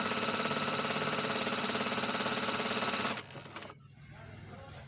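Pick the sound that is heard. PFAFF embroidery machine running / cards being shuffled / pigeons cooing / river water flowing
PFAFF embroidery machine running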